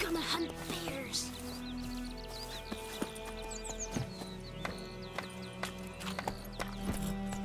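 Roach the horse galloping in the video game Witcher 3, steady clip-clop hoofbeats with an occasional whinny over a busy game soundscape of music and ambient effects.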